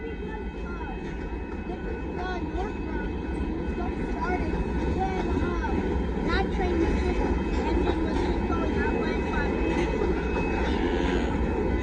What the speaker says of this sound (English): This train's not that long at all.